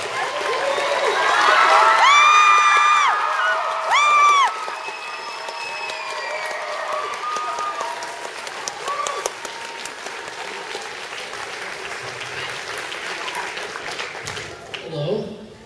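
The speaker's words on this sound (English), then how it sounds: "Give him a warm round of applause." Convention audience at InvaderCon 2012 breaking into loud applause and cheering, with whoops and shouted voices on top, peaking early and then settling into steady clapping that carries on to the end.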